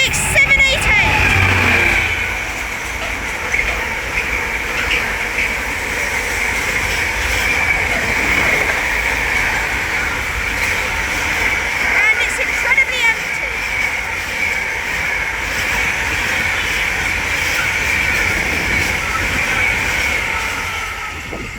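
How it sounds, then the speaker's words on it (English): A GBRF Class 66 diesel freight locomotive and train roll past on the main line, a loud sustained rumble and screechy wheel noise throughout, with a voice speaking over it. "So we're about to have a GBRF Class 66 pass by"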